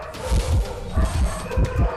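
A dog barks in a quick series of about five sharp, loud barks close to the microphone, coming in short bursts with brief gaps.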